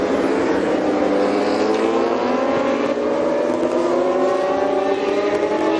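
Supersport racing motorcycles pass through Goddard's during a 2018 British Supersport race, making a loud, continuous high-revving engine roar with overlapping rising and falling engine tones.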